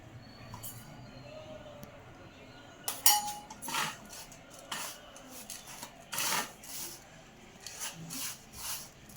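Flour being stirred with about two spoons of hot ghee in a bowl for sunnundalu, giving soft scraping and rubbing strokes with light clinks of a spoon against the bowl, irregular and close.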